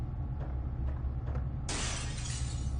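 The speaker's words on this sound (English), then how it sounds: "The sound of glass breaking in a museum is never good." Glass shatters in a museum in the video game Fatal Frame 4, a sudden loud crash cutting through a low rumbling ambience after some faint knocks.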